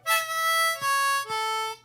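Harmonica played with the back of the tongue pressed up, without an E vowel mouth shape, giving a duller, darker tone; three sustained, close, fairly loud notes follow one another with brief breaks, no voice.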